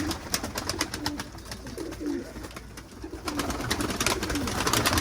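Pigeons in a loft coo and flutter close by, a dense run of rhythmic cooing with wing rustles and scratchy movement throughout.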